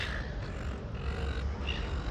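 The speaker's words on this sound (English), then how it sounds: "You can hear the birds." Crows cawing outdoors among other birds, a steady wash of calls layered over constant open-air background noise throughout.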